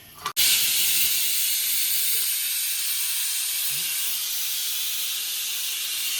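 A pressure cooker lets out a loud, steady hiss of steam while beef biryani rice cooks, starting with a short click and then holding a continuous bright rush for several seconds with no talk.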